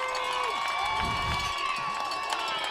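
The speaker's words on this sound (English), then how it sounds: "The fans are cheering." Fans at a Connellsville high school football game against Uniontown roar in a steady crowd cheer with shouting voices on top, and a nearby voice talks briefly beneath the noise.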